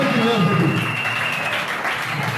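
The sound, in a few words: audience applause, cheering loudly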